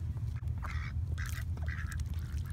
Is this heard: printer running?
no